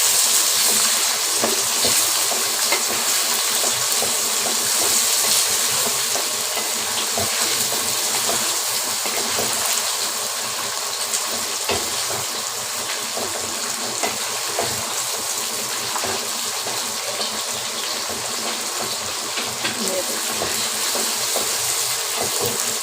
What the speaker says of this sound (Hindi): चिकन को भी इसके साथ थोड़ा सा फ्राई कर लेते हैं